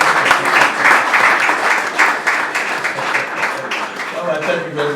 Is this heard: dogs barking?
no